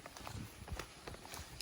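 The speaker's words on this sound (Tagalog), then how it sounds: "Ay, may kabayo" Hooves of a horse on a farm in Quezon, a fairly faint, irregular clip-clop of several steps close by, with soft background noise and no clear talking.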